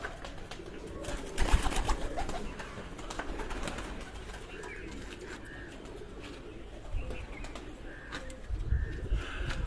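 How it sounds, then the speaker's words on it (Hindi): Jounsre pigeons coo softly and repeatedly at a home loft in Sargodha, with a few wing flutters and faint background noise. "ये जौंसरे कबूतर हैं दोस्तों माशाल्लाह।"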